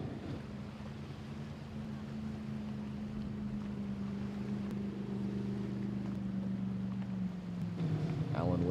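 Droning engines of stock 1500 class ski personal watercraft racing on open water, a sustained buzzing hum with shifting pitch under wind noise that grows louder toward the end.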